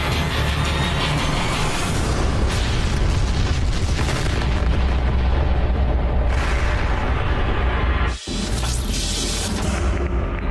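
A huge explosion of the antimatter-propelled rocket Savior 1 at launch: a sustained, loud roaring rumble that fills the whole clip, briefly dipping near the end before continuing, with no talk.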